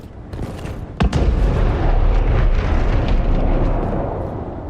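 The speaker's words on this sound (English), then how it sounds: "some sort of magic explosion happened in its direction" A magic explosion in the fantasy game Dragon Age Inquisition: a sharp blast followed by a loud, rumbling roar that lingers and slowly fades.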